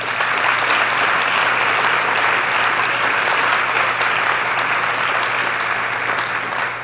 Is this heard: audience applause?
yes